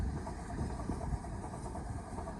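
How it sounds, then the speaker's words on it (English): A Class 387 electric passenger train passes at Clapham Junction, a steady rumble of wheels and carriages rolling by at moderate distance, continuous and even throughout with no voices. "here is a 387 going from Brighton or Gatwick Airport to London Victoria"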